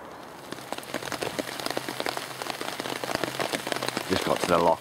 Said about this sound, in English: it started pissing it down, so I'm just going to sit under my tarp for a little bit, wait for the rain to stop